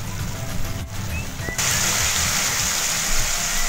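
Water is added to a pan of macaroni as it cooks, giving a loud, steady sizzling rush of liquid that jumps in intensity midway and continues without talking.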